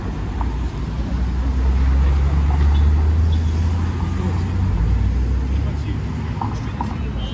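Heavy road traffic of large cars at a pedestrian crossing in Dubai, UAE: a loud, continuous low rumble of engines and tyres that swells slightly mid-way and holds steady throughout.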